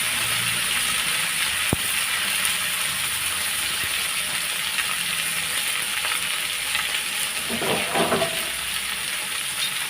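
Chinese kale and cabbage with garlic stir-fried in oyster sauce sizzle steadily in a hot pan, a constant frying hiss with occasional stirring scrapes near the end.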